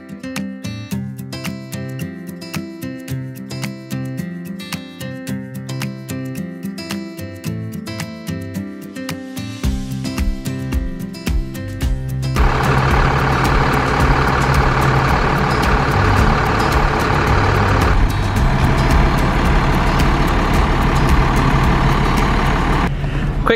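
A large RV engine rumbles loud and close, its idle deepening and building into a steady, heavy drone as the motorhome creeps forward a short distance, with no voices over it.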